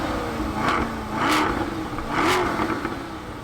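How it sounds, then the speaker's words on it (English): A stock car engine idling near after a cold start, a steady low hum broken by a few short revs that swell and fall back, with a light mechanical clatter and no talk. "Let's go ahead and give it a little cold start on this car."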